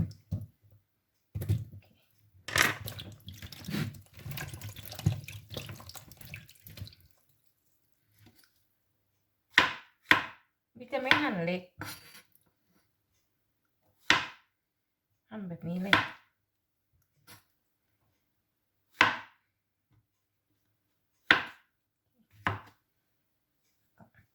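Sharp chopping taps of a knife cutting mushrooms on a board, a rapid burst early on, then scattered single cuts spaced a few seconds apart, close and fairly quiet.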